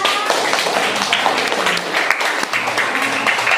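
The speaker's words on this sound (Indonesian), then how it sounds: "tepuk tangan dong buat kawan-kawannya" Students in a classroom clap together in a brisk, busy patter that lasts the whole short stretch, fairly close and with no voices over it.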